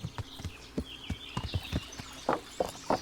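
Horse hooves clip-clopping at a steady walking pace in the medieval video game Kingdom Come: Deliverance, a run of distinct, fairly close hoofbeats with faint ambient game sound beneath.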